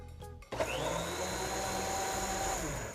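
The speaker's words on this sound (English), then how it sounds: "I put it in a blender because it's really easy to mix in a blender" A countertop blender mixing chia seeds starts up after a brief quieter moment, then runs as a steady, loud motor whir with a high whine for the rest of the clip.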